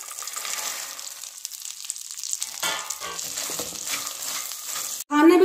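Chopped fox nuts (makhana) roast in ghee in a pan, a steady close sizzle with light stirring scrapes, ending in a sudden louder burst of sizzling.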